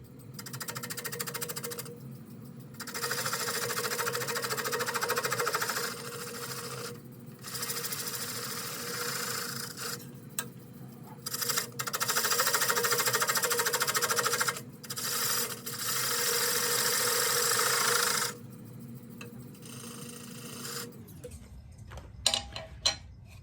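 Wood lathe spinning a black cherry bowl held against a jam chuck while its tenon is trued up, a steady rasping cut that keeps breaking off and resuming in short pauses before the motor winds down near the end.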